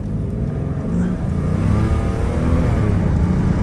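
A 1994 Mercedes-Benz S600 accelerating hard from low speed, its engine note rising loud and close in a steady building roar with a faint wheel-spin hiss, no talk over it.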